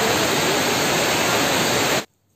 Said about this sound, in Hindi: उहदे च झरने दा उपरों गिरदा पानी बहुत शोर करदा